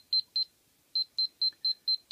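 An Agatape 7 laser tape measure emits a countdown of short, evenly spaced high-pitched electronic beeps: two, a pause, then six more in a steady rhythm, clear and close with no voices.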